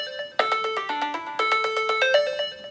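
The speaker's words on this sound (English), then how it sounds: "I have asked your phone to start ringing." A phone ringtone triggered remotely through Alexa by a PebbleBee Finder tracker plays a bright, repeating melodic pattern of tonal notes, loud and close, with no talk over it.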